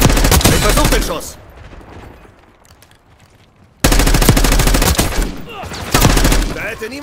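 Gunfire in the video game Call of Duty Black Ops 6 on the Warhead map, with loud rapid bursts of shots, a quieter pause, then another heavy volley close up.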